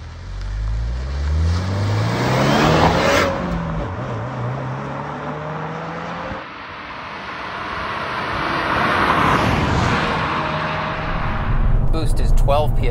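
2022 Subaru WRX Limited with a manual gearbox accelerating through the gears, engine pitch rising and dropping at the shifts under road and wind noise. Someone talks over it at times.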